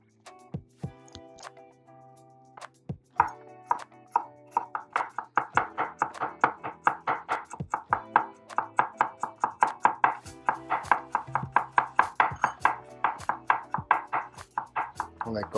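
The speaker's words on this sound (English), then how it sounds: "chopped garlic" A knife chops garlic on a cutting board in quick, steady rhythmic taps, close and crisp, following a few scattered knocks at the start; no talking over the chopping.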